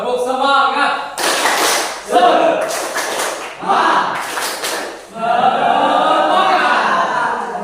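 Students in an Indonesian classroom do a group spirit clap, with bursts of rhythmic, patterned clapping separated by short pauses. Voices chant along with the clapping throughout.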